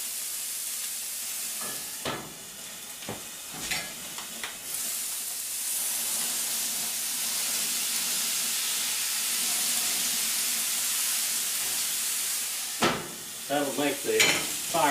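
Hamburger sizzles with a steady frying hiss on a wood burning cook stove, with a few clinks and scrapes of a utensil near the start and end.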